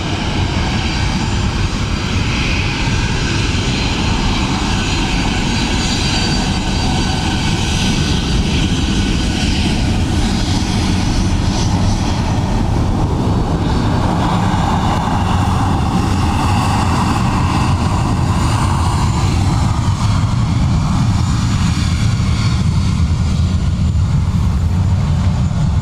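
Jet airliner engines roar at Dublin Airport, a loud continuous broadband rumble and whine that holds steady for the whole stretch, with no talk over it.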